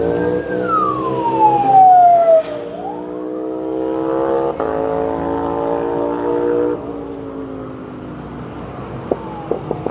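An ambulance siren wails loudly nearby as it passes along a street during a national strike protest, its pitch sweeping down and then settling into a steady, fading tone.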